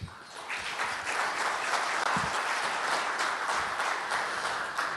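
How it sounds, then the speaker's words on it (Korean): An audience at a business CEO forum applauds to welcome a speaker to the stage, steady broadband clapping from many hands filling the room without pause. "큰 박수 부탁드리겠습니다"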